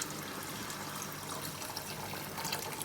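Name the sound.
pouring hot water into pot for mutton biryani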